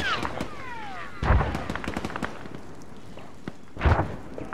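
Gunfire in the military shooter game ARMA 3 cracks out in scattered single shots and short bursts, with two heavier booming impacts. Close and distant reports mix over a quiet background without speech.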